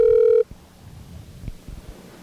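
A loud electronic telephone tone sounds briefly at the start, then cuts off into low room noise with faint rustling and small knocks.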